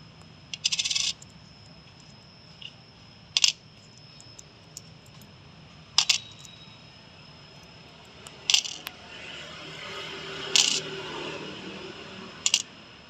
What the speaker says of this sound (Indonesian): Selanjutnya dilakukan penimbangan koin 200 dan 500 dengan kalibrator.